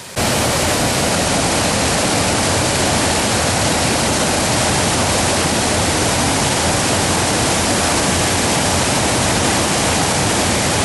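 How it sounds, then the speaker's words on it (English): Water pouring over a waterfall in the Peak District, a loud, dense, unbroken roar of rushing water heard close by, with no voices. "There's a fair bit of water coming over the top."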